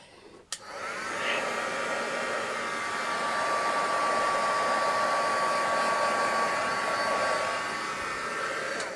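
A hair dryer blows a steady, even whir for several seconds, close and loud, drying fresh paint on an altered Christmas planter, with no talking.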